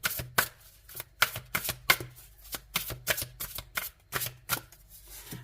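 Oracle cards being shuffled and drawn: a quick run of crisp riffling slaps and snaps in an irregular rhythm, up close, with no voices.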